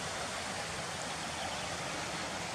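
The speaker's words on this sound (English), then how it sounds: "those waterfalls there on the right. There's like a natural big gully at the bottom where the water's dropping into." Waterfalls drop into a large natural gully in a forest, producing a dense, steady roar of rushing water that stays constant throughout, with no voices present.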